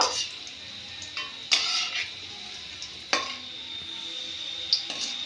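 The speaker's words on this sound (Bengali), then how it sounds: "একই রকমভাবে আমি সবগুলো ফিস ফিঙ্গার ভেজে নেব" Katla fish fingers frying in a pan of oil give a steady faint sizzle, with a few sharp clinks and scrapes from handling the pan.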